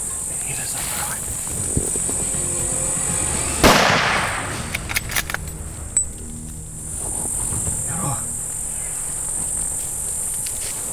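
A single sharp gunshot cracks out during an African hunt, fairly close, followed by faint scattered rustles over a steady high insect drone outdoors.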